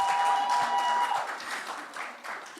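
Audience at a church photography masterclass clapping for a speaker, a brief burst of applause that is fairly loud at first and then tapers off.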